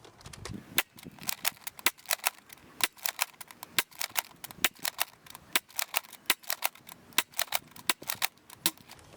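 A Buzz Bee toy blaster fires new foam darts in rapid succession, a long run of sharp snapping pops at an uneven, quick rhythm, loud and close with no talking.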